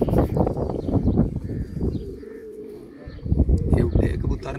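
Sialkoti pigeons coo and call close by in a loft for sale, the soft repeated coos running throughout beneath people talking.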